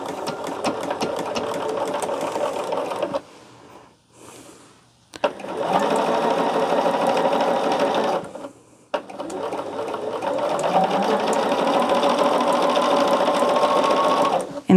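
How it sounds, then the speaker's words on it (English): A sewing machine stitches a quarter-inch seam on a quilt test block in long, steady whirring runs, loud and close, pausing twice briefly. "I'm going to sew it from the side where that seam is going down"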